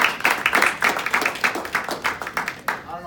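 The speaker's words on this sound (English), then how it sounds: "Give it a round of applause for." An audience claps for a speaker being introduced at a personal finance talk, a moderate burst of hand claps that thins toward the end before fading out.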